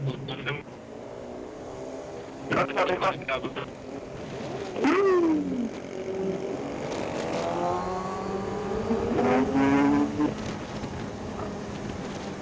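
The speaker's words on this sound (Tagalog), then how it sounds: "Oy, may kakaliwa yung motor." Traffic in Tagaytay with engines revving and passing nearby, pitch sweeping up and down as vehicles accelerate, including a sport bike and a motorcycle turning left among the cars.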